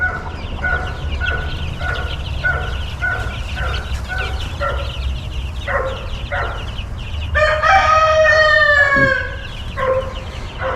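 Meat chickens three weeks old in a coop make a run of repeated clucking calls, then a longer, louder crow-like squawk, over a steady low background rumble.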